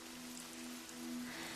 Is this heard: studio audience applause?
no